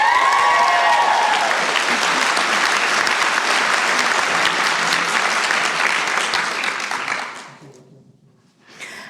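Loud, dense applause with cheering from a crowd at a University of Galway autumn conferring ceremony, steady for about seven seconds before fading out, with a brief burst near the end.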